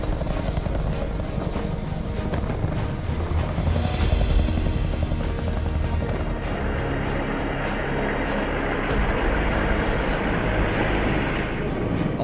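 CH-47 Chinook helicopter hovering with a loud, constant thudding rotor roar and heavy engine whine, close and steady for the whole stretch with no talk.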